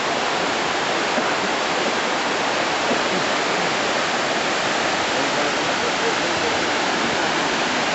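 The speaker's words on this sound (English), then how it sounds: "Here's a little break stop on the way with the spectacular waterfalls." Spectacular waterfalls in the Kali Gandaki Gorge along the Annapurna trek pour with a loud, steady rushing roar that never lets up, a dense wash of falling water close by.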